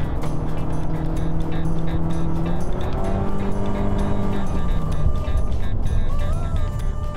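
A Nissan Elgrand AUTECH or Toyota Alphard Modelista minivan braking hard on a race circuit, heard as a loud, steady engine and road roar with tonal whine lines shifting downward, no clear tyre squeal.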